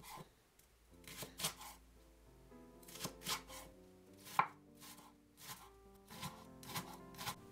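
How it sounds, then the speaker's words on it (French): Leeks being sliced with a knife on a board, heard as a quiet, close series of crisp chopping strokes in irregular clusters, with brief pauses between runs. No speech. "J'émince 150 g de poireaux."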